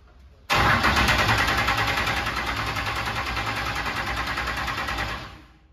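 A Camaro land speed car's engine cranks and catches with a sudden loud roar, then runs at a steady, rough, close idle for several seconds before dying away at the end.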